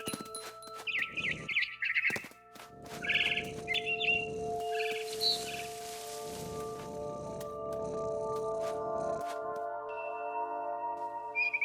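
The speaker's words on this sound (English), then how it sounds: "Then I heard chirping outside my window. It was a barn swallow going back to her nest." A barn swallow chirps in short bright bursts near a window in What Remains of Edith Finch, set against a steady tonal game ambience with soft low rustling.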